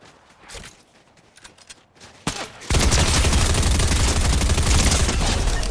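Fortnite gunfire builds from scattered shots and footsteps into a loud, continuous burst of rapid fire that fills the last few seconds, close and intense.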